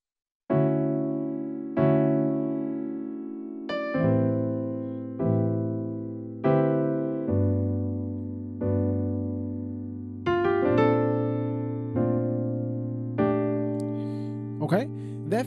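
Piano plays slow, evenly spaced chords of a song that ring out and fade before the next, a gentle repeating progression ending with a few light high notes.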